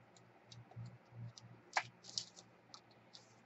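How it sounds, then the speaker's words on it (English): Scissors cut a strip of material for a bag handle, making quiet, close snips and clicks in an irregular rhythm with one sharper snap partway through. "I'm just going to go ahead and cut a strip out of here"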